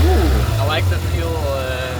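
An engine idles as a low, steady rumble underneath close, overlapping talk from people nearby.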